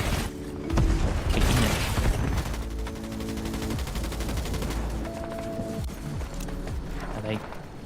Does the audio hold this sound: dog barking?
no